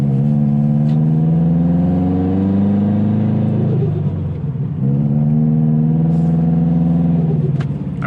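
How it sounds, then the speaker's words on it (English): A turbocharged Subaru Legacy GT engine revs up and holds a loud, droning tone, dips briefly as revs fall with a short hiss, then climbs and holds again, close up with no talk. "it's got some serious fucking turbo noises"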